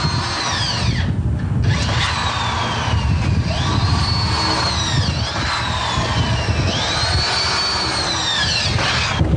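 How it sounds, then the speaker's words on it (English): A power drill bores a 3/16 hole through pre-drilled holes in a metal door hinge, a loud continuous whine with rising and falling pitch as the bit bites, close up. "We drill a 3/16 hole through the pre-drilled holes in the hinge."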